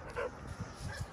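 Dog giving short soft yips and whimpering barks outdoors, a few faint brief calls spread over a second, distant and quiet.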